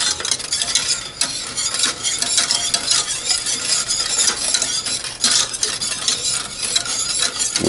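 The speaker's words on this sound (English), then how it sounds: "so just stir that in until it's melted" Dipping sauce for chicken or fries being stirred in a pan until melted: close, busy scraping and swishing strokes over a soft sizzle, continuous with uneven bursts.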